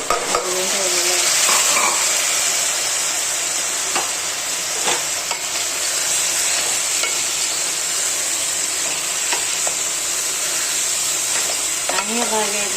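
Vegetables fry in hot oil for masala rice, giving a constant loud sizzle with intermittent spoon scrapes and taps against the pan, close and continuous throughout.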